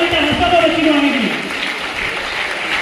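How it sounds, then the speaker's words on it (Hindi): Audience at a school naat competition in Aurangabad claps in a steady wash of applause, close and continuous throughout, with a voice audible over the crowd in the first second. "जोरदार तालियां बजाइए इस बच्ची के लिए"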